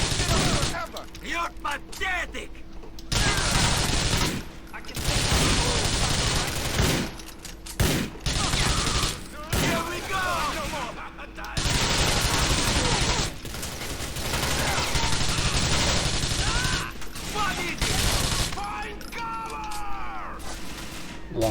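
Heavy gunfire erupts in GTA 4 running a graphics mod: loud, rapid volleys and bursts repeat again and again with short pauses between them, and a voice is faintly heard in some of the gaps.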